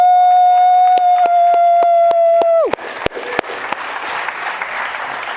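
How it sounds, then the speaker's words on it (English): A conference audience at a talk on digital health measures breaks into loud, sustained applause after a long held tone, with clapping filling the room for several seconds. "let's give them a loud, energetic round of applause."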